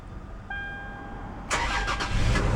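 A 2018 Toyota 4Runner SR5 engine cranks and catches after a short electronic chime as the key is twisted, then settles into a steady idle close by.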